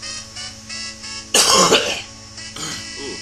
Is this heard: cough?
yes